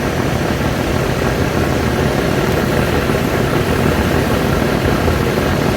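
Engine of the passenger launch MV Arafat 7 running underway on a river, a loud, steady low rumble with constant broadband roar, unchanging for the whole stretch, with no voices.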